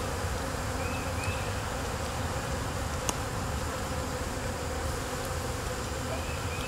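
Honeybees in an open hive give off a steady, dense buzzing that stays close and constant throughout, with no voices.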